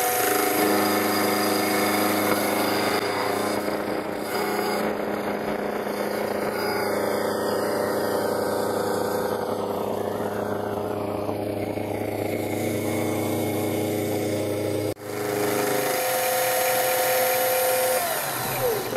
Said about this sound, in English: this is gonna be a first cleanup pass to take off the factory edge on this piece of stainless steel